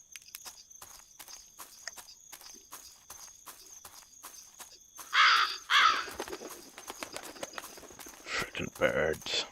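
Crows cawing in a horror video game, harsh calls bursting out around the middle and again near the end over a steady run of rhythmic footstep clicks and faint background tone.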